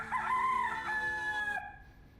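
A rooster crows once, close and loud, in a long drawn-out call that fades away at the end.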